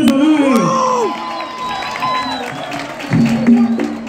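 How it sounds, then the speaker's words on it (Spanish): A crowd at a bullring event in Estelí, Nicaragua, cheers and claps for an introduced performer, with whoops and shouts rising over steady applause and a loud swell of cheering near the end. "Demos el aplauso público, un personaje."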